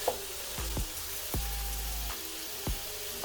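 Peppers soften in a hot pan for vegetarian rasta pasta, giving a steady sizzle and fry broken by several sharp scraping stirs or clanks at irregular intervals, close and moderately quiet.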